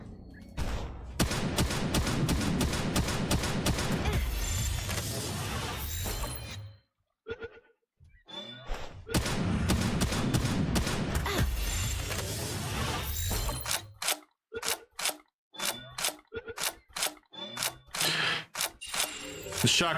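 Shotgun blasts from the video game Palworld fire in dense, loud rapid bursts, pausing briefly before another heavy barrage and then a run of separate sharp shots.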